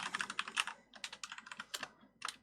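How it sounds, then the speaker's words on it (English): Typing on a computer keyboard while writing C++ code: close, quick bursts of light key clicks in an uneven rhythm with short pauses, no talk. "So while you're typing"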